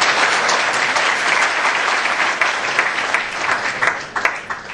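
A crowd applauds a Hindi poetry recitation with loud, dense, sustained clapping that holds steady before thinning and tapering toward the end.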